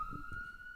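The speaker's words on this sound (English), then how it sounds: "Nope, that's the ambulance." An ambulance siren sounds outside, a steady high tone held for under a second and heard faintly over low thumps.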